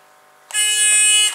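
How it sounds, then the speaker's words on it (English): A homemade weight-release alarm's buzzer sounds loud, close and alone: a steady, harsh electronic tone that holds for under a second and then cuts off. "As soon as you release the object, the weight drops and it will cause the buzzer to buzz."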